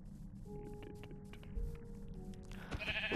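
Sheep bleat in a video game survival world, with a few short, clear bleats over a steady background of soft game ambience and light tapping.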